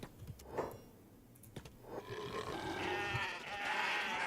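Goats in the video game Kenshi let out rough, grunting bleats, a short call near the start followed by a longer, louder stretch of strained bleating and groaning to the end, with no talking.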